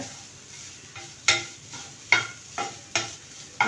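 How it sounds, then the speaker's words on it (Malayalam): Spoon stirring a Kerala-style coconut and onion toran in a pan, several distinct scraping strokes at a steady pace over a soft, faint sizzle with no voices. "ഒന്ന് ഇളക്കിക്കൊണ്ടിരിക്കുക"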